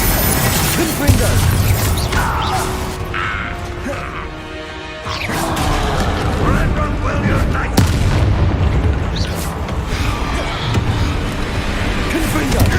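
Repeated Confringo fire spell blasts and booming impacts from Hogwarts Legacy combat on hard mode, loud and dense over a rumbling game soundscape, with a brief dip midway before the bursts resume; spoken voices run alongside the effects.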